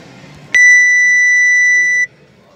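A timer alarm gives one loud, steady electronic beep, close by, that holds for about a second and a half and then cuts off into quiet.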